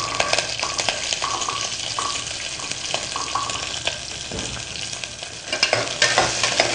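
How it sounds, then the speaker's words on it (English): Green chilies and onions frying in a pan for mutton korma, a steady crackling sizzle with scraping stir sounds throughout, close and moderately loud, no talking. "Add slit green chilies and onions."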